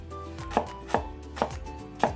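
A knife chops through an onion on a board in four crisp, close strikes at uneven spacing, with quiet gaps between them and no talking.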